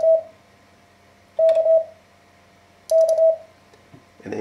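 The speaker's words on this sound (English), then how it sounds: "he'll alternate sending K's and M's after you've gotten used to the sound of K's." Three Morse code letter K tones, each a short steady beep group, spaced evenly apart with quiet gaps between them, clear and close, sounding alone with no speech.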